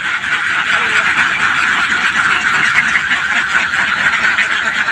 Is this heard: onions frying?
no